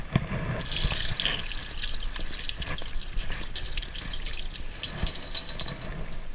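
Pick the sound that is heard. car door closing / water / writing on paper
water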